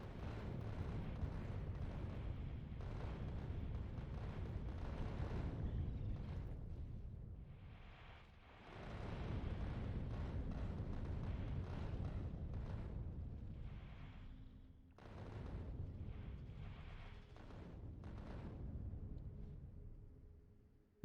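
Gunfire and rocket explosions in the Factorio Space Age video game, a dense, continuous barrage of booms and bursts with two brief lulls, loud and sustained throughout.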